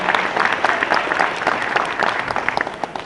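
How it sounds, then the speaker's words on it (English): Applause from a convention audience at a sci-fi fan event, steady dense clapping that fills the room at a moderate level throughout, without a break. "Give yourself a warm round of applause"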